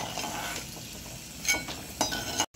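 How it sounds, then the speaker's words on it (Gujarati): Peanuts frying in hot oil in a pan, a soft steady sizzle broken by a few brief clinks and stirring scrapes, with no talking. "બીને તળી લઈએ આપણે"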